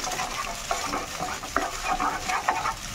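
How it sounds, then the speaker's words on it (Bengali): Eggs are stir-fried into a crumbly scramble in a pan, giving a soft continuous sizzle with scraping stirs and light clinks from the spatula, heard close and alone. "ডিমটা একদম ঝুরি ভাজা করে দাও, তাহলে খেতে টেস্ট হবে বেশি"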